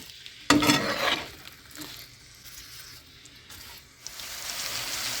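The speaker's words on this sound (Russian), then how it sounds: "В 100 граммах растительного масла обжариваем лук." Onions fry in vegetable oil in a pan with a steady crackling sizzle, broken by bursts of stirring as they are moved about, close and fairly loud with no talk.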